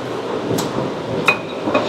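Brake pads for a Ford Mustang GT are slid into the caliper, giving a few sharp metallic clicks and knocks close by over a steady hiss of background noise.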